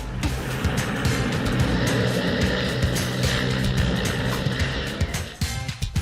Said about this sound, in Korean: 에보 모랄레스 볼리비아 대통령을 태우고 착륙을 시도하는 헬리콥터.